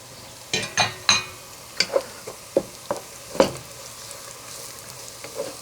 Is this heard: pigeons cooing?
no